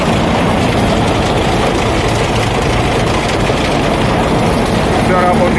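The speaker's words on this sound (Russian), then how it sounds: "Двигатель работает тихо, стабильно, без посторонних шумов." A Yenisei-950 combine harvester engine runs steadily at idle, a constant low rumbling drone with no breaks.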